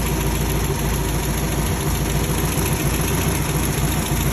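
An MGB car engine with two carburetors idles steadily, a loud, close, continuous low rumble with an even throb and no voices.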